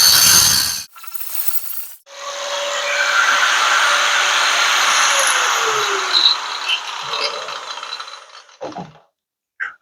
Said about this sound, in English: second part of removing the rear foot peg hanger, we can get to use the big boy grinder